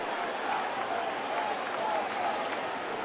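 A baseball crowd at a Yankees road game against the Mets roars steadily after a home run, a dense wash of cheering and applause that holds at the same level throughout.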